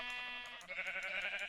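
Sheep bleat in the Minecraft video game, a series of short, nasal, wavering calls repeating close and clear with no other sound behind them.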